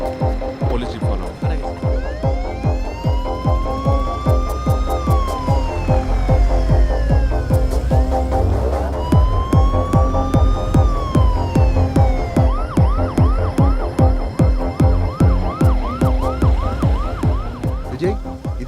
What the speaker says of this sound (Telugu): police jeep follow